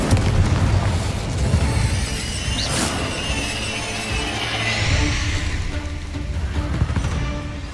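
An Incendio fire spell bursts in a Hogwarts Legacy duel, a loud booming blast with a sharp crack near the middle, then roaring, crackling flame and rumble that fades slowly.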